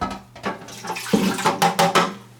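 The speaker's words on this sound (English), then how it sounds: "we're going to fill it up with 1/2 cup water, 1/2 cup white distilled vinegar." White distilled vinegar pours and splashes into a plastic humidifier reservoir in uneven gurgling bursts, close by, with no talking.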